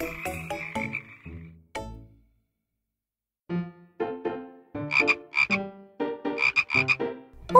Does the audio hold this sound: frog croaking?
yes